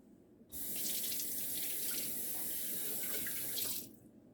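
Water running from a kitchen tap to rinse out a jar that held homemade bone broth, a steady loud splashing stream lasting a few seconds before shutting off.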